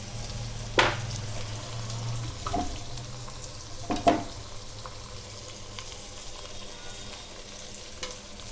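Brinjals (eggplants) frying in a pan for a bagara baingan curry, a steady soft sizzle with a few sharp clinks and stirring scrapes scattered through it.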